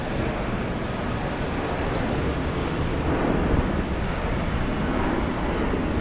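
A jet airliner landing at JFK airport roars steadily and loudly, a dense broadband engine rumble that holds constant without pause and with no voices over it.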